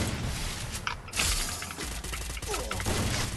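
Gunfire rings out in a ranked Counter-Strike match, with sharp shots and a rapid burst cracking over the game's background noise.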